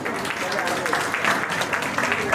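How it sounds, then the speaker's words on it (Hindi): An audience claps loudly at a cultural programme at a Jain temple in Shalimar Bagh: dense, continuous applause for a couple of seconds, with voices mixed in. "एक बार जोरदार तालियां"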